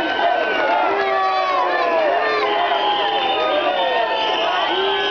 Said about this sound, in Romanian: vă rog să aplaudați această decizie